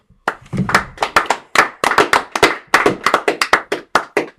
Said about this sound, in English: Clap it up for the brother.